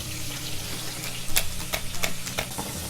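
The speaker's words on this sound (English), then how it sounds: "So right now I'm just tipping the skillet to kind of like shallow fry or slightly baste the oyster, the scallop." A scallop sears in a hot skillet with a steady sizzle and frying crackle, with a few sharper spits and pops midway, close and moderately loud.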